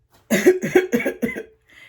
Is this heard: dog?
no